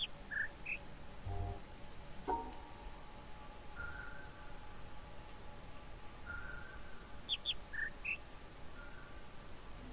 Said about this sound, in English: Yes! It's the birds!